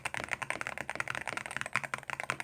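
Fast, continuous typing on a keyboard with Hall effect switches, close and crisp, with a rapid run of bright clicking keystrokes and no voices.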